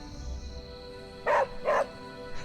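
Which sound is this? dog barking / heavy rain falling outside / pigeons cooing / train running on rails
dog barking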